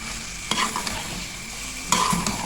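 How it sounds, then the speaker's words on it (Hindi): Green chilies being stirred into bottle gourd as it fries in a pan, a steady sizzle with two distinct scraping stirs, one near the start and a louder one toward the end, no talking. "5 से 6 डालेंगे सब्ज़ मिर्चें और इसको अच्छे से मिक्स कर लेंगे। ये सारी चीज़ें आपने भूनते हुए एंड पे शामिल करनी है।"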